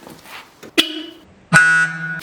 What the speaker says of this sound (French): Yeah, on a trouvé le klaxon.